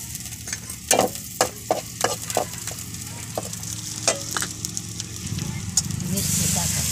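Cumin, mustard seeds and curry leaves hit hot oil for buttermilk kadhi, giving a close, steady sizzle broken by sharp spoon-against-pan knocks and stirring, ending in a louder surge of frying.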